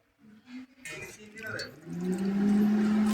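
A kitchen mixer grinder starts up partway through and whirs steadily while it grinds ginger and peanuts. Someone talks over the quiet start before the motor's hum builds and dominates.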